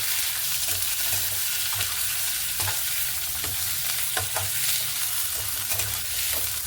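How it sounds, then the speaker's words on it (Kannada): Onions and potato stirred as they fry in a pan, a steady close sizzle broken by soft repeated scraping strokes, with no voices. "ಈಗ ಅದನ್ನೆಲ್ಲ ಮಿಕ್ಸ್ ಮಾಡ್ಕೊಳ್ತೀನಿ"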